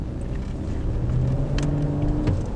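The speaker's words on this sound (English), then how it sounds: "Give it a little gas here." A 2019 Audi Q8 luxury SUV accelerates from inside the cabin, a low, steady engine drone rising slightly in pitch over a couple of seconds with soft road noise beneath.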